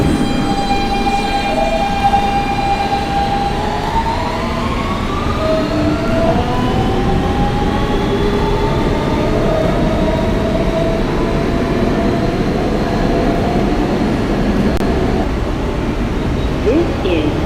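A Kawasaki R160B-2 Siemens R subway train runs through New York with a loud, steady rumble, while motor whines glide and rise across the ride and voices come through over the noise.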